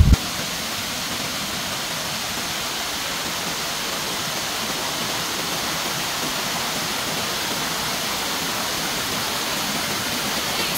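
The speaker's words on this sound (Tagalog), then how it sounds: "Let's explore the Kaparkan Falls." Kaparkan Falls waterfall in Ifugao, a constant broadband rushing roar of falling water, steady and loud with no pauses.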